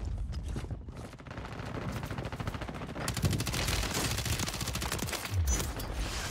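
Gunfire in a shooter video game: dense, continuous volleys of rapid shots that build and stay loud throughout, with no talking.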